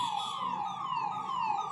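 Ambulance siren wailing continuously as the vehicle makes its way through a flooded street after heavy rain at Dinod Gate, Bhiwani, a steady downward-sweeping tone heard clearly on its own.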